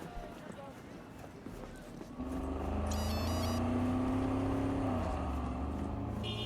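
A car in Cyberpunk 2077 accelerates with a steady, loud engine drone that swells after a couple of seconds and holds under game ambience, with talking underneath.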